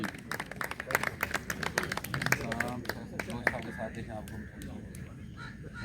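Audience claps for a speaker at a park's first anniversary ceremony, with scattered, uneven handclaps at moderate distance and voices talking over and between them.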